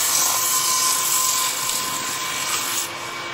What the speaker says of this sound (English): go in and do a little bit of sanding on that